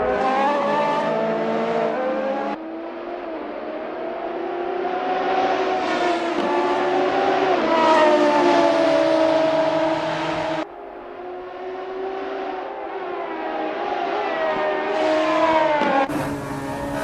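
A Radical SR3 race car engine screams through gear changes in sim racing at Calabogie Motorsports Park. It is loud and close, climbing in pitch through each gear with sharp drops at the shifts, and tires squeal briefly.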